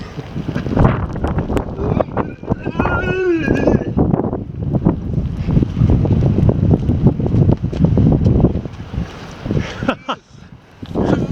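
Strong coastal wind buffets the microphone at a jetty, heavy rumbling gusts throughout with a voice and other talk mixed in, loud and close.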